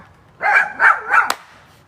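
A dog barks outdoors in a garden where hummingbirds feed, three fairly loud barks in quick succession followed by a short sharp sound, with no talk over it.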